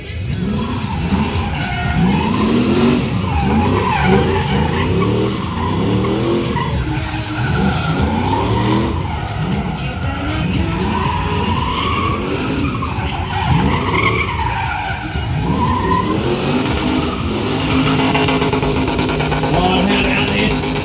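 A drift car with an LS V8 skids around a wide track at a Hot Wheels drift gymkhana show at MotorEx, tires squealing loudly and continuously as the engine revs and wavers, close and sustained.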